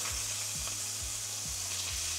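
Strips of schnitzel fry in a hot pan, cooked in batches, giving a steady close sizzle with a few soft scraping stirs at regular intervals.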